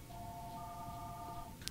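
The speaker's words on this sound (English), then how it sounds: "Phone calls, bro." Phone ringing in the NBA 2K16 basketball video game, a steady electronic tone with two close pitches held for about a second and a half, faint over quiet background hiss, ending with a brief click.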